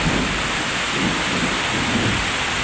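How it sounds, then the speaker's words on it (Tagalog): Thunder rolls during a heavy rainstorm, a loud continuous rumble blended with the dense hiss of rain, close and steady throughout with no voices. "Sunod ba naman yung kulog sa kidlat eh."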